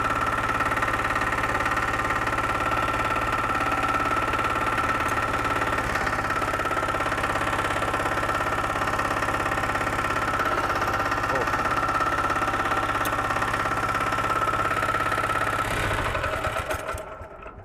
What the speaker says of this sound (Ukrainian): Як бачите, мотоблок глушиться без екстреної зупинки